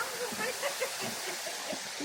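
Yongchu Falls in Jecheon gives off a steady, broad rush of falling water, with constant hissing spray heard from a wooden bridge over a glass floor, and footsteps or low voices faintly underneath.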